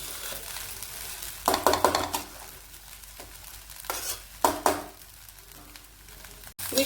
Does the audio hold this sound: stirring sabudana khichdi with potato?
yes